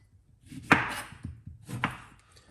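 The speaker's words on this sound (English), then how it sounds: "we cut up the lemon like this, and we're gonna put it straight into the blender like that" A knife cuts up a lemon on a cutting board for a blended drink, giving two sharp, close chops about a second apart with soft handling sounds between them.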